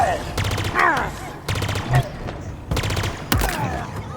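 Bursts of rapid automatic fire in a Halo game, aimed at the hero, come in four separate volleys, each a quick string of sharp cracks, mixed with high squeaky alien chatter.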